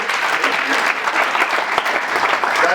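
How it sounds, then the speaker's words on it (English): A summit audience gives a sustained round of applause, dense, even clapping at close range filling the whole moment without interruption. "I think we can give them a round of applause"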